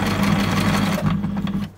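A household sewing machine stitching through five thick layers of fabric, a steady loud mechanical whirring and rapid needle thumping close up for nearly two seconds before slowing slightly at the end.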